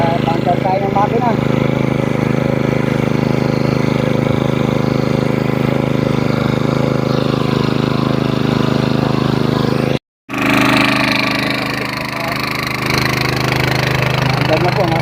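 A small engine driving an irrigation pump runs with a steady, rumbling putter close by, its drone continuing throughout apart from a brief dropout near the end.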